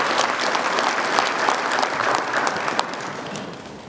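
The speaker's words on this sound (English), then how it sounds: "you can give them a round of applause if you want" Audience applause at an annual utility company meeting, a steady dense wash of many hands clapping for about four seconds, fairly loud, then tapering slightly at the end.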